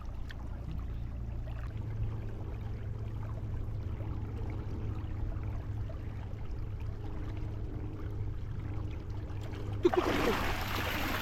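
Fast-flowing village stream water near Mumbai where fishing nets are set, a steady low rushing wash close to the microphone throughout, ending with a sudden louder splashy burst.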